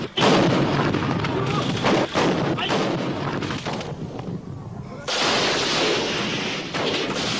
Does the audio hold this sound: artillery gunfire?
yes